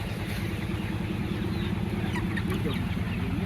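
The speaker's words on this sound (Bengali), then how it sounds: "ওনারা নিজেরাই আসা বস্তা থেকে মুরগিগুলা ওই গাড়ির ভিতরে তুলতেছে" Chickens clucking and squawking as they are tipped from sacks into a vehicle during a poultry sale, steady and fairly loud against a busy background with a faint engine-like rumble.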